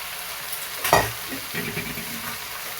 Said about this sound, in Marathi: चांगलं परतून घ्यायचं ह्याला चांगलं परतून घ्यायचं भाजीला